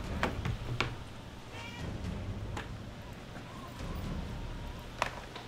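A cat meowing several times, short close cries scattered across the stretch, mixed with background noise and bits of speech.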